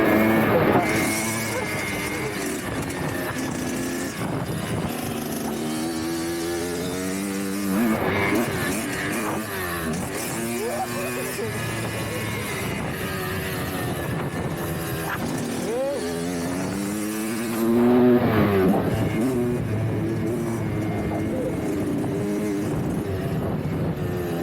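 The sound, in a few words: dirt bike engine riding at a gym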